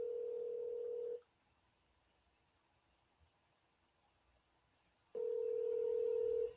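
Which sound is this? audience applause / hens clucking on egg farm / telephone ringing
telephone ringing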